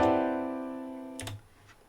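A sustained, layered seven-note extended chord rings out and slowly decays, with a brief soft clatter near the end.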